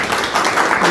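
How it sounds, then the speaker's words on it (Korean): An audience at a policy forum in Korea gives a brief burst of dense applause, lasting under a second. "박수 한번 부탁드립니다"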